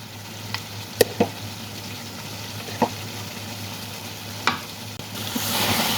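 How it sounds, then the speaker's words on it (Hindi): Mutton and potato pieces fry in oil in a pot just after yogurt is stirred in. A low, moderate sizzle runs throughout, broken by a few sharp spatula clinks and scrapes, with a brief louder burst near the end and no talking. "दही डालने के बाद 3 से 4 मिनट भून लेंगे जब तक ऑयल सेपरेट ना हो जाए।"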